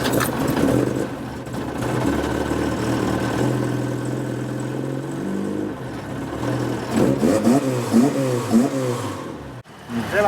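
A Ford Capri fitted with a Lotus twin cam engine warms up at a steady idle, then blips into a few sharp revs that rise and fall. The engine is close and loud.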